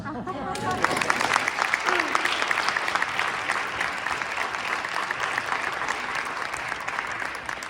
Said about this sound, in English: Let's give one more round of applause to all our great, wonderful, bilingual students of Darwin.